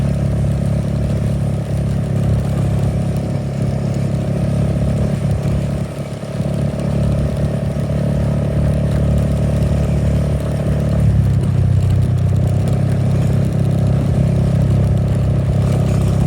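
A motorcycle engine runs with a steady, fairly loud low rumble and hum that persists for the whole stretch, its pitch shifting slightly partway through, with no talking.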